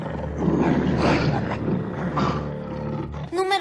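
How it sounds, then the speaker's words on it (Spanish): Ferocious tigers roar, a loud, close, sustained growling roar that swells and ebbs over a few seconds, ending with a brief higher tonal cry. "En todas las otras hay tigres feroces."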